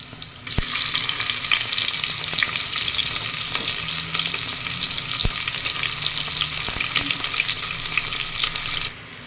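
Onions sizzle loudly in a pan over spices for a butter chicken and biryani dish, a continuous bright frying hiss with a few sharp clinks of stirring, alone and close.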